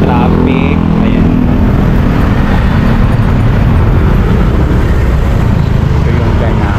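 Loud, steady street traffic outside Manila Central Post Office in the Philippines, a constant roar of cars, motorcycles and buses filling the whole stretch, with a voice talking briefly early on.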